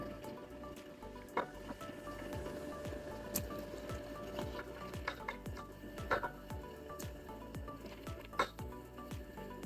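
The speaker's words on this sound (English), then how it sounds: "Now that our simple syrup is at a boil, we can add our lemons." Lemon slices laid into boiling simple syrup, a faint bubbling and soft sizzle with scattered small clicks and wet pops, close and steady without talk.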